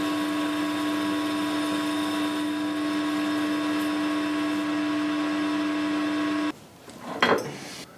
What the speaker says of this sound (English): let's get this guy parted off.